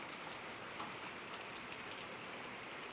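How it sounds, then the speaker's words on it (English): Steady, dense rainfall hisses continuously, an even wash of drops with no voices over it. "Just a lot of rain."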